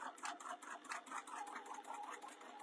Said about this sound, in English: go slowly over that side seam